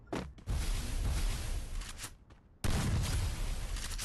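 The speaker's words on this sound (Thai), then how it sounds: "ยิงเลยครับ" Sustained bursts of rapid gunfire in the battle royale shooter Free Fire, loud and dense, broken by a brief pause before another heavy volley; no talking.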